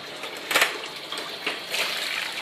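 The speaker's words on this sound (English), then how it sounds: "Just pour the water" Hot water is poured off boiled spaghetti, giving a steady rushing splash with a couple of louder gushes, close by in a kitchen.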